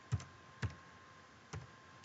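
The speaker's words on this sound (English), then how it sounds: "I'm going to type in" A few isolated computer keyboard keystrokes, soft close clicks spaced unevenly in a quiet room.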